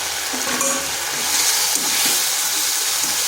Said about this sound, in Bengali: ভালো করে মশলাটা কষে নিচ্ছি।